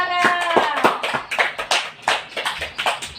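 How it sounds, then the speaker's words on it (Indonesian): A small group claps for a student in a classroom lesson, a run of brisk, close hand claps that fades and restarts in uneven bursts, with no one speaking. "Tepuk tangan dulu untuk Zara"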